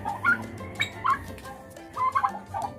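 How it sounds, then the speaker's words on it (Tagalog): A turkey on a backyard farm gobbles in several short, bubbling bursts spaced a second or so apart, close and fairly loud, with low farmyard hum between calls. "Dito na yung pabo natin"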